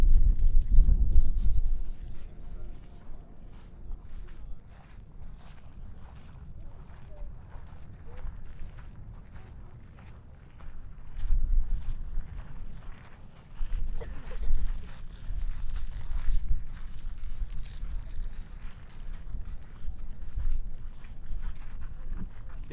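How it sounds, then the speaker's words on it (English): Wind gusts across the microphone at a Kilauea volcano lookout at evening, a steady low rumble with stronger buffeting bursts near the start and midway, no voices. "It is windy where I'm at"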